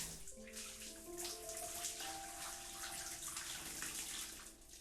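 Water trickles and splashes as a plant is watered from a bucket in the video game Homesick, a steady pouring wash under soft sustained game music tones.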